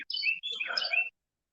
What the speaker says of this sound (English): Got the birds singing out here.